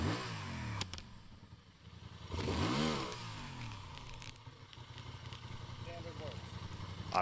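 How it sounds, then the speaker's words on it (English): A 2025 Honda Transalp 750 motorcycle in standard riding mode spins its rear tire in gravel, its engine surging in a loud revving burst around the middle before settling to a steady rumble with gritty scraping. "the standard mode still spins a rear tire pretty easily"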